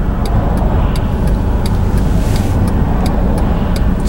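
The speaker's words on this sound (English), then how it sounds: "So we get one more car on the right here" A car passes on a road, a steady broadband engine and tyre roar filling the whole moment with loud, close traffic noise and faint ticking above it.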